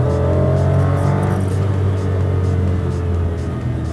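A Daewoo Matiz engine held at high revs near the limiter in second gear while driving across a field, a loud, steady droning whine with slight wavering throughout.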